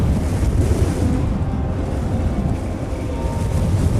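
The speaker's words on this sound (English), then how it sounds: "And it was just wind, you know, with driving sand." Strong wind roars and buffets steadily for several seconds, a dense continuous rush with gusty fluctuations and driven sand hissing in it, close and loud against the microphone.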